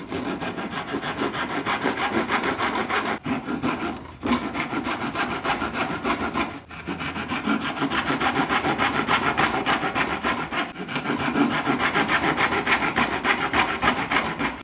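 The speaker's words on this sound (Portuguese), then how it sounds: "você serra mais ou menos até 1 milímetro antes de chegar na linha" Steady back-and-forth strokes of a handsaw cutting wood for a dovetail joint, continuous and close, with a couple of brief pauses between strokes.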